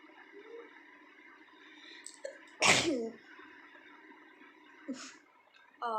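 A woman gives one loud, close sneeze without a towel or handkerchief, surrounded by quieter breathy vocal sounds and short noises before and after.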